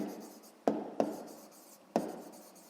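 A pen writes on paper during a sixth-grade maths exercise on factoring out a common multiplier, giving three quick strokes that each trail off into a soft scratch, close and quiet, with no voices.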